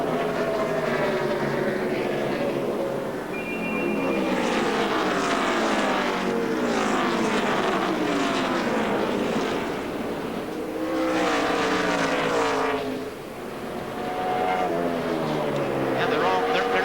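NASCAR Nextel Cup stock cars racing at New Hampshire in 2006, engines roaring loud and continuous with repeated rising and falling pitch sweeps as packs pass, a commentator talking over them.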